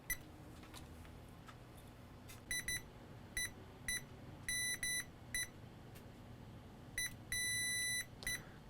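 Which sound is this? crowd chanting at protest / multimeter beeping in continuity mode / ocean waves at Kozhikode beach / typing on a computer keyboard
multimeter beeping in continuity mode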